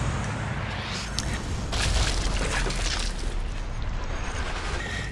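A grenade detonates in slow motion in the video game Sniper Elite 4, a drawn-out, muffled boom with a rumbling, hissing tail, heard alone at modest volume.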